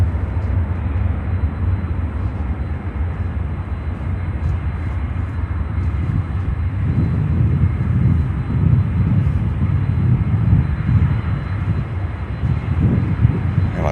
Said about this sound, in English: it looks like we have EVA Air Cargo coming down for takeoff